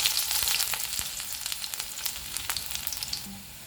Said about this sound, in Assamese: গৰম তেলত কাটি লোৱা নহৰুখিনি দিলোঁ